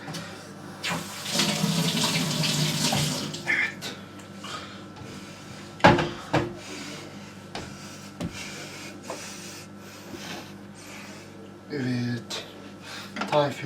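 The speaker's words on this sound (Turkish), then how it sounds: "Elimi yıkayayım arkadaşlar müsaadenizle." A tap runs for a few seconds while hands are washed in a kitchen. Soft clunks, rustles and taps follow, and people talk throughout.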